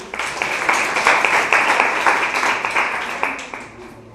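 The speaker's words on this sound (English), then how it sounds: "Clap your hand for Gaby." An audience claps for a guest, the chairwoman of a teachers' association, with sharp, close individual claps in a lively, uneven rhythm that thins out toward the end.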